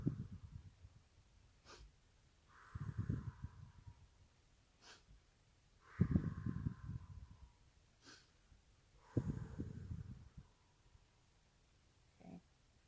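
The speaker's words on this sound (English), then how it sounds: "So then I started to do a short inhale and a long exhale." Slow human breathing during recovery from a panic attack, three rounds of a short breathy inhale followed by a longer, rougher exhale, close and fairly quiet with pauses between.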